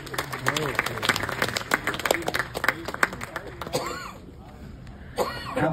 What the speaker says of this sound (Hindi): पारितोष मिश्रा जी के लिए जोरदार तालियां प्लीज